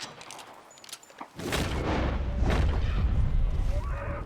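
A rifle shot at a bighorn ram in Red Dead Redemption 2 bursts out loud and close, then a sustained rumbling roar and rolling echo fill the rest of the moment.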